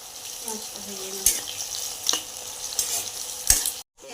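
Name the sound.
onions frying in a pan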